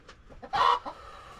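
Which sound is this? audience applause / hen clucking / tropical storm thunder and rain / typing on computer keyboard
hen clucking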